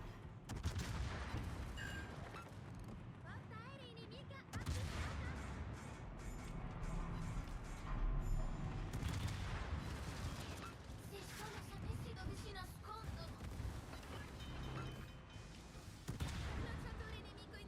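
Naval guns fire in a World of Warships battle with a Roon cruiser, dense booming salvos and crashing impacts stacked over a continuous loud game soundscape, with voices talking through it.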